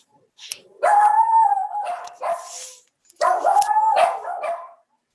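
Dogs barking indoors at home, two loud bursts of barking and howling-like yelps separated by a short pause, close to the microphone with no talk.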